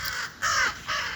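A crow following a person outdoors gives two harsh, close caws separated by a short pause, with no talk.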